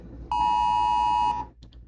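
A public security warning alarm tone sounds as one loud, steady electronic beep lasting about a second, followed by two brief faint blips.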